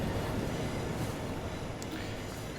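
A Class 66 "Shed" diesel locomotive hauls a rail head treatment train past in the Train Sim World video game, giving a steady loud rumble of engine and wheels on rails with a brief squeal near the end, no talking.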